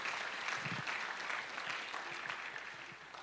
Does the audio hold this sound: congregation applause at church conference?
yes